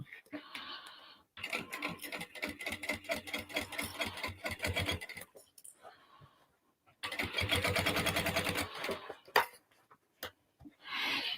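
A sewing machine stitches around the gusset of a fabric dolly bag in two long, close bursts of rapid, even whirring, with short pauses between them and a voice talking at times.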